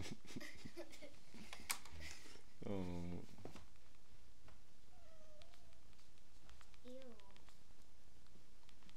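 A cat meows a few times, a loud drawn-out meow near the start followed by a couple of shorter, quieter meows, close to the mic under background voices and household noise.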